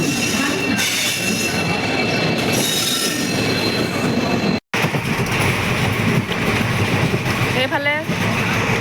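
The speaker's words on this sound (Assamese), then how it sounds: "এতিয়া আমাৰ ট্ৰেইন আহিছে" A passenger train pulls into a station in Assam, its wheels squealing loudly and steadily over rumbling carriages while people talk nearby.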